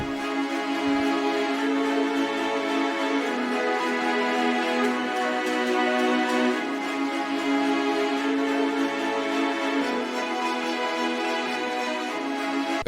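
A sustained, dense layer of orchestral strings holds a slow melody for an NY drill beat, steady and full throughout with no voices.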